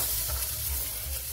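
Vegetables and shrimp dumplings stir-fry in a hot pan, giving a steady, loud, close sizzle with stirring noises that run through the whole moment and no talk.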